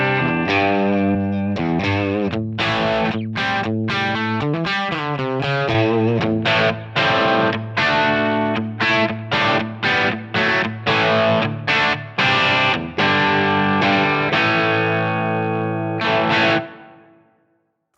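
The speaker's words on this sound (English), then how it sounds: "That is the sound of this Brit 2203 amp model" Distorted electric guitar through a Line 6 Helix Brit 2203 amp model plays chugging chords and choppy riffs with crisp stops, then a sustained ringing chord that fades out, loud and upfront with no talking.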